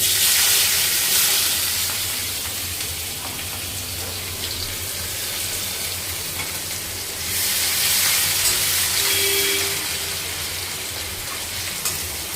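Onion frying in hot oil with garlic and black cumin in a wok: a loud, steady hissing sizzle that swells at the start and again midway, with faint stirring sounds throughout.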